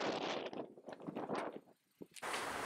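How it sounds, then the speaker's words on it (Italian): Strong gusting wind buffets the microphone outdoors in a Sardinian town, coming in rough rumbling bursts that briefly drop away before roaring back loud at the end. "Oggi vento forte a Vacuabis."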